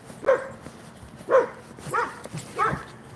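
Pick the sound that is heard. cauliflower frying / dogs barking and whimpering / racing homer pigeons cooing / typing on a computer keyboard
dogs barking and whimpering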